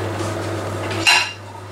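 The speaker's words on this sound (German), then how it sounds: "Und als erstes mache ich jetzt mal den Geschirrspüler ausmachen." Dishes and cutlery clatter in a home kitchen as the dishwasher is emptied, a brief sharp clink of crockery rising out of a steady background hum.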